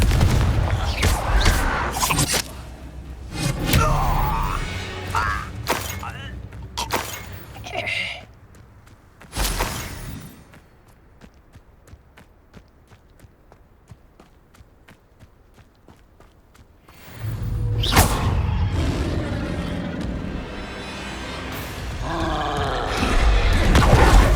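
Confringo blasting spells in Hogwarts Legacy erupt as loud booming explosions in rapid clusters, then a quieter stretch of low rumble before another burst of blasts and impacts.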